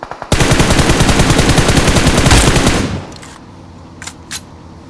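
A loud, sustained burst of automatic fire in the battle royale game BGMI, dense rapid shots for nearly three seconds that cut off abruptly, followed by quieter game ambience and a couple of faint distant pops.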